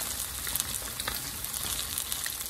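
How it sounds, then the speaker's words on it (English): Kingfish fry in hot oil, giving a faint, steady crackling sizzle with small pops throughout and no voices. "So they're frying nicely, looking good."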